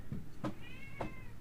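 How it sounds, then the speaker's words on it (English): A cat lets out short, faint meows during a scuffle with another cat indoors, with a few soft thumps and a thin drawn-out cry over quiet room noise. "She was attacking my cat behind me."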